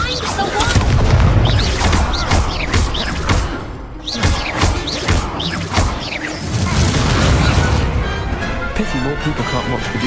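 An Expulso blast spell goes off during a duel in Hogwarts Legacy, with heavy booming impacts and crashing thuds over a loud, busy mix and brief spoken lines.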